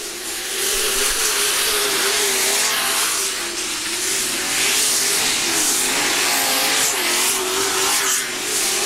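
B-Mod race cars in a scramble race roar loudly and continuously, engines revving and wavering in pitch as the pack speeds past close by.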